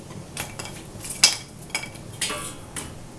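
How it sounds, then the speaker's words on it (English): Small wood pieces dropped and packed into a homemade IKEA hobo stove, a few sparse clinks and knocks against metal at irregular intervals, close but fairly quiet, with no talk. "Right now I'm just going to fill my stove up with wood."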